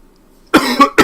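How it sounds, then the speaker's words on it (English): A streamer coughs close to the microphone, three quick rough coughs after a moment of near silence. "Cough, cough."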